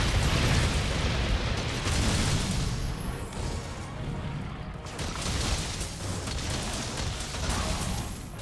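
A monster in the Monster Hunter video game exploding repeatedly, filling the scene with continuous loud, rumbling blasts and crashing bursts with little letup.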